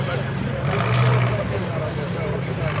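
UAZ off-road vehicles rev their engines at the start of a drag race, a steady, loud mechanical drone with a brief surge near the middle, heard under outdoor crowd noise and talk.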